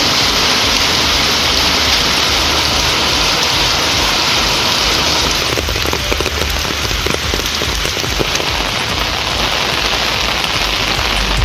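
Heavy rain pours around Thirukkuvalai in Nagapattinam district, Tamil Nadu, a dense, loud, unbroken hiss of downpour on surfaces lasting throughout, with no voices.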